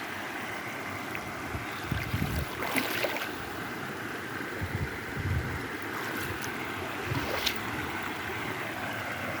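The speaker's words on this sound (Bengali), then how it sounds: "এই যে দেখুন শামুক, কত সুন্দর শামুক নদীর কলকল শব্দে প্রাণ জুড়ে যাচ্ছে" A branch of the Sunai river in Tripura flows past at close range, a steady rushing wash of water with soft babbling and a few brief splashy surges, with no voices.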